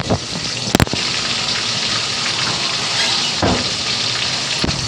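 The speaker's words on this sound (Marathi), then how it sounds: "मोठ्या गॅसवरच आपल्याला हे परतून घ्यायचं आहे" Chopped onion and tomato with a little salt sauté in a pan over a high gas flame while cooking spicy misal. A loud, steady sizzle continues throughout, with a brief clatter near the start.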